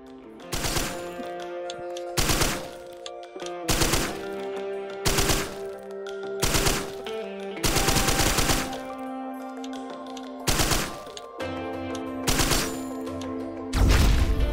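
Repeated multi-burst gunfire from the video game Risk of Rain Returns, loud rapid bursts of roughly a second each recurring about every second and a half over a steady game music bed.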